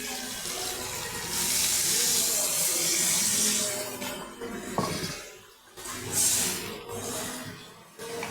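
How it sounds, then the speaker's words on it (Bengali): Water pours into a pan of Bengali rui fish curry masala made with potato and tomato. It makes a steady, close splashing rush for a few seconds, then stops briefly and pours again, with a light clink of utensils. "এখন আমি জল ঢেলে দেবো পরিমাণ মতন"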